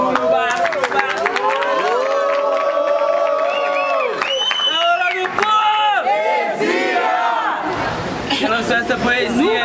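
A large crowd at a rap battle final cheers, shouts and yells loudly and continuously, with whoops and rising voices filling the space close by.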